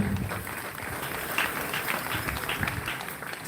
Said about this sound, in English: A thunderous applause for them.